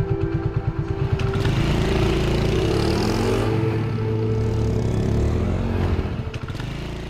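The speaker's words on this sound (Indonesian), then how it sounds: "Ya udah, yuk kita parkirin motor kita dulu." A motorcycle engine idles and revs steadily in an animated scene as the bike is pulled up to park, with a rough, close rumble throughout and a louder burst of revving before it settles and fades near the end.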